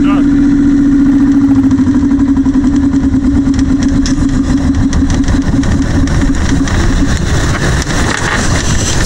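A boat's engine idles loudly and steadily nearby with a low throbbing hum, then shifts toward the end as it is shut down, with voices talking over it.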